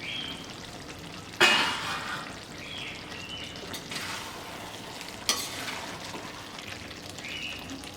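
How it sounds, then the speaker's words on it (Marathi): Mixed vegetables for veg biryani cooking in a pan, a steady soft sizzle and bubbling throughout, broken by two sharp scraping stirs, close and without voices. "आता आपण भाजी अजून पूर्ण शिजून घेऊया."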